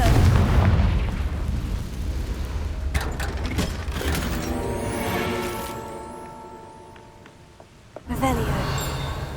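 An explosive Confringo spell blast goes off in Hogwarts Legacy as a booming burst with crackling debris, followed by ringing, decaying game effects and a fresh loud surge near the end, with some voice mixed in.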